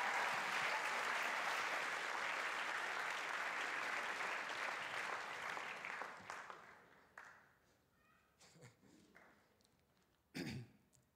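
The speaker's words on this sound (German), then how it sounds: "Applaus!" Audience applause at an amateur evening poetry slam, a dense wash of clapping for about six seconds that thins into scattered claps, a few coughs and throat clearing before one last brief burst.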